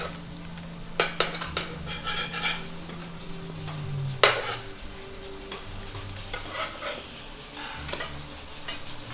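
Bananas Foster sautéing in a pan for brioche French toast: a soft, steady sizzle under scattered scrapes and clinks of a utensil stirring against the pan, close by, with no talking.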